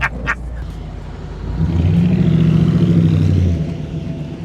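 A 1953 Ford Victoria drives past outdoors, its engine rumble swelling as it nears, peaking loudly, then fading, after a brief clatter at the start.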